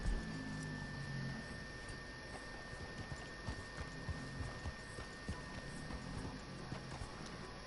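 A horse's hooves pound steadily in the Red Dead Redemption video game, an even run of moderately close clip-clop beats over a faint background hum, with no voices.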